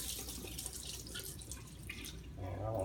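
Tap water running and splashing as dirty 9mm brass cases get a pre-rinse in a sink, a steady faint wash with a few drips and a brief low clunk near the end.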